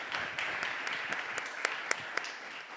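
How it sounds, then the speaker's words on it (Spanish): Audience applause for a panel at a discussion event on television series, a dense patter of many hands with a few louder single claps standing out, ongoing throughout. "Y un aplauso para ustedes."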